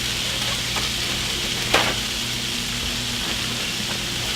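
Tofu sizzles and fries steadily in a hot pan as a dense, continuous crackle, with a brief sharper spatter partway through and no talking.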